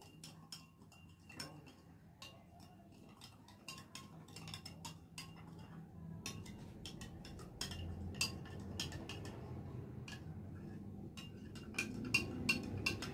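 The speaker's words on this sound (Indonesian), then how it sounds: "Masukkan ke dalam air, diaduk agar rata." A spoon stirs a spoonful of salt into water in a glass, making steady rapid tinkling clicks against the sides, close but fairly quiet over a low background hum.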